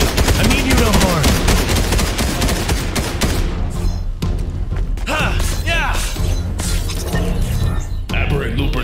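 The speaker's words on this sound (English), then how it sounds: "Stop shooting!" Rapid gunfire bursts from the Fortnite video game rattle loudly and densely throughout, with voices shouting over the shooting.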